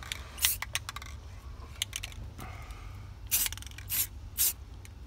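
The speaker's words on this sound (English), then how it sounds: "You just gotta spray on, off." Spray paint is applied to car headliner fabric in short, sharp hissing bursts, a few spread apart and several close together near the end, over a quiet low background hum.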